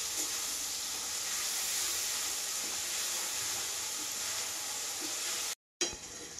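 Tomatoes and onions frying in a pan give a steady, close sizzle with faint stirring scrapes, cutting out for a split second before resuming.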